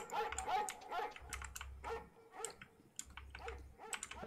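A dog barks repeatedly in a Roblox game, short yapping bursts in an irregular rhythm, fairly faint against a low droning background, with no voices over it.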